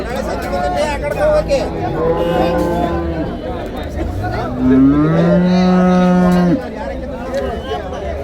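Jersey and HF cows moo repeatedly over a busy crowd of chattering voices at the Honnali cattle market, with one long, loud low moo standing out near the middle.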